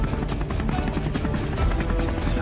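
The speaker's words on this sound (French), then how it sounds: "Je le voyais, c'était un hélicoptère de l'armée." An army helicopter passes overhead in a tense audio drama scene, its rotor giving a steady, dense rumble that stays loud and continuous throughout with no voices.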